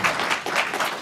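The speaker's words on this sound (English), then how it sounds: "Those are our employees clapping for you." Employees clap for a newly introduced NFL running back at a press conference, a short burst of close, moderately loud group applause with rippling claps and no talk over it.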